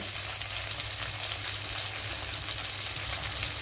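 Four dried red chillies and sliced onion fry in hot oil for a mackerel fish curry, giving a steady, dense sizzle that stays close and even throughout, with no talking.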